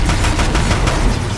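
The Deathbringer gun firing in Horizon Zero Dawn, a dense, loud, continuous barrage of rapid booming shots with a steady rattling pulse throughout.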